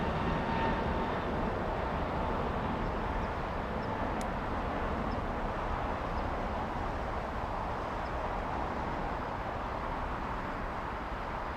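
A Lufthansa Airbus A350 from Munich on final approach into Los Angeles airport gives a steady, fairly distant broad jet roar that holds evenly throughout, with no talk.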